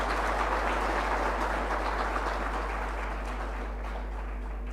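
Applause fills a public swearing-in ceremony for judges in Botswana: a broad, continuous wash of clapping that fades slightly toward the end, with a steady low hum underneath.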